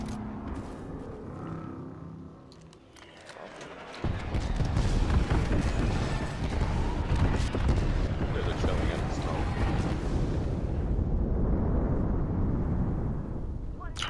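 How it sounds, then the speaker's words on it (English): An airstrike in a video game: a sudden heavy blast hits partway through, then swells into a long, loud, rumbling roar of explosions, with voices under the din. "Signaling an airstrike."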